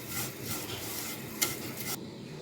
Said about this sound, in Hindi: पचास ग्राम सेवइयाँ ली हैं हमने यहाँ पे और इसको अच्छे तरीके से रोस्ट कर लेंगे